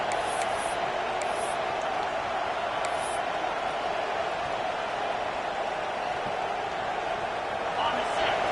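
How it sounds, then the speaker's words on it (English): A broad, roaring stadium crowd noise fills the space continuously, loud and steady, with a few sharp thumps and a commentator's voice faintly underneath, from the video game College Football 26, Ohio State vs Oregon. "Listen to this crowd just shaking the girders of this place, trying to help their defense"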